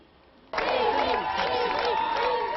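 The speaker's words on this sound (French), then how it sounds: "Dès qu'il arrive, la foule l'interpelle par son prénom." A large crowd in a Brussels park bursts into loud shouting and cheering as the king arrives, people calling out to him by name; the dense, sustained roar rises abruptly after a quiet half-second and carries on close and full.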